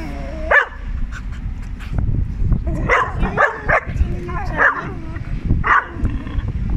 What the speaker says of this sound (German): wie diesen unverschämten Welpen, der uns da anbellt.